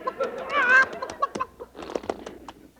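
Clucking chicken noises for a horse named Leghorn that thinks it's a chicken, a radio comedy sound effect: a burst of fowl-like squawks and clucks that trails into softer, choppy clucking.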